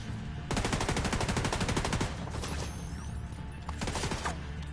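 Rapid automatic gunfire shooting enemies in a video game, a loud burst of evenly spaced shots followed by scattered single shots and a second short volley, with no talk.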